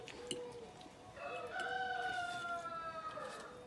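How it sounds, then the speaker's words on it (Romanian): A rooster crows once, a long wavering call rising and holding for a couple of seconds, moderately distant against faint background noise. "cântă cocoșul"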